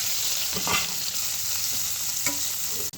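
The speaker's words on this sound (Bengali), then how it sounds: "একটু পেঁয়াজ কুচি দিয়ে দেবো।" Chopped onion frying in soybean oil in a kadai, a loud close sizzle with scraping stirring strokes running throughout.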